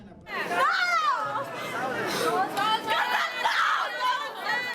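A crowd of villagers at a tribal justice trial in Colombia chatters and calls out, overlapping voices rising and falling close by, with excited shouts standing out in the babble.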